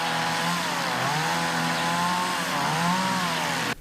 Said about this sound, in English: volunteers showing up, breaking out chainsaws.